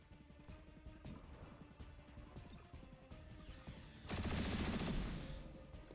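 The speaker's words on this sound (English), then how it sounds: "Ready to fire." Gunfire in the XCOM Chimera Squad video game: a steady stream of crackling shots gives way to a louder, denser burst near the end, up close with no talking.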